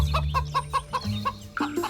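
A hen clucks in a cartoon story, giving a rapid run of about eight sharp, close, loud clucks and ending with a drawn-out squawk.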